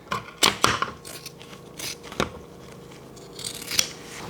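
Scissors snip through waterproof canvas during bag making, several crisp sharp cuts in uneven bursts, close and fairly loud, with quieter rustling between and no talk.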